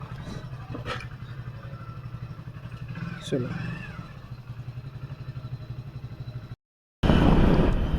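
A motorcycle idles steadily and sets off on a ride, its engine hum running close and constant while someone talks over it, before a loud gust of wind noise takes over at the end.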